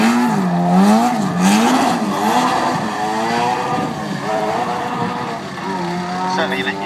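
A 450 brake horsepower historic rally car races around the Donington track, its engine revving and shifting pitch as it accelerates past, with a commentator talking over it.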